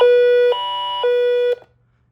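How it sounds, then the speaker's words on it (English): First Alert WX27 weather radio alert siren sounding loud and close, a harsh buzzing electronic tone alternating between two pitches in half-second steps for about one and a half seconds before cutting off abruptly. "these both have the same siren, same kind of design."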